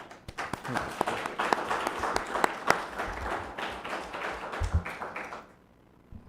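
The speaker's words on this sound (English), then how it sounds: "They're already clapping for you." Attendees at a township trustees meeting clap for a fire department service recognition, a moderate burst of individual claps with a voice or two underneath, dying away into quiet.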